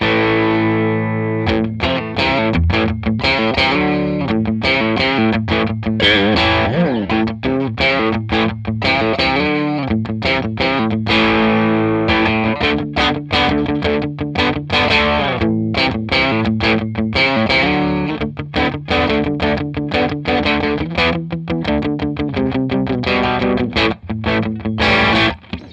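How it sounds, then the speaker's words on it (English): A distorted electric guitar plays through a Crazy Tube Circuits Splash MK3 reverb pedal, a busy, continuous riff with a thick, saturated driven tone, loud and sustained throughout. "you get a really nice driven sound just because of the circuit"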